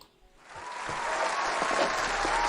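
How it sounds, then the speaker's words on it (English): Applause for a guest named Ralf during a student association's lustrum opening broadcast, swelling from near quiet into a steady, even wash of many hands that holds to the end. "I think it's time to give Ralf some applause."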